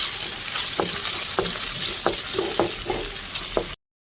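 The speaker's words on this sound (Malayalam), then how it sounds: "പച്ചമുളകും ഇട്ടേക്കാം, നല്ല മൂത്ത് വരട്ടെ." Crushed ginger and garlic fry with green chillies in a heavy pan, giving a steady close sizzle broken by about seven sharp spatula taps against the metal before it cuts off abruptly.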